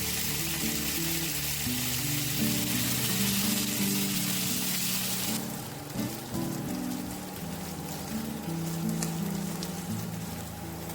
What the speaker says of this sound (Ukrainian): І смажимо на високій температурі плити до легкої скоринки.